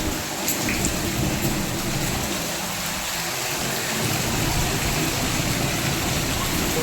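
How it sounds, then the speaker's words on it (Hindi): Steady heavy rainfall pours down with a constant hiss and a gusty rushing undertone, loud and unbroken throughout. "बिल्कुल झमाझम वाली बारिश हो रही है"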